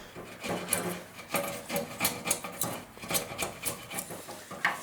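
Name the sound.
rasp filing wood of a composite mast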